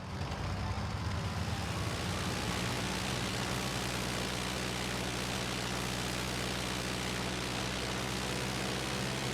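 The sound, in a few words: airplane engine in video game Zwei: The Ilvard Insurrection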